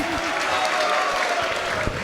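An audience applauds panelists at a debate, a dense, steady wash of clapping from a crowd that runs the whole time, with a faint voice beneath it.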